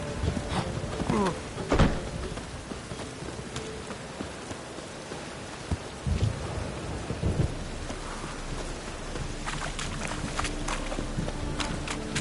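Rain and thunder in the video game Witcher 3, a steady downpour with low rumbles of thunder rolling through, a loud crack near the two-second mark and more bursts later, continuous and fairly close with no talk.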